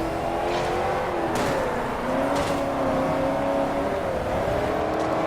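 Boat tail Buick Riviera engine in the racing game Forza Horizon, a steady engine drone with shifting pitch that rises and falls continuously and loudly throughout, with no talk.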